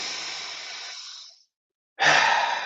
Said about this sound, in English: Last 2 breaths, quickest yet.